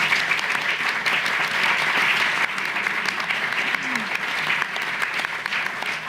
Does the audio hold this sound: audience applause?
yes